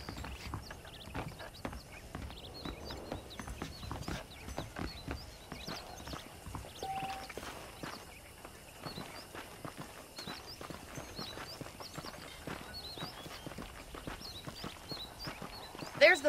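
Horses in the Red Dead Redemption video game clip-clop steadily at a walking pace for the whole stretch, with hoofbeats close and continuous while someone talks over them, and a louder burst at the very end.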